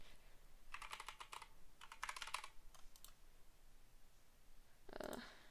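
Bursts of rapid, random key-mashing on a computer keyboard: three quick clattering flurries, a pause, then one more short burst, close and fairly quiet.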